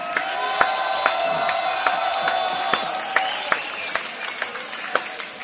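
An audience at a beatbox loopstation battle applauds for beatboxers MB14 and SLIZZER, dense sustained clapping mixed with cheers and whoops from a large crowd, with loud individual claps popping out from the steady roar.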